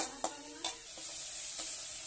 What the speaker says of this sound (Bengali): এবার আমি ভালো করে একটু নেড়ে নিচ্ছি গুঁড়ো মশলাটাকে, ভালো করে কড়াই মশলাটা একটু ভেজে নেব।